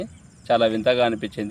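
Yellow frogs call from a village pond in a steady chorus that sits under someone speaking close by.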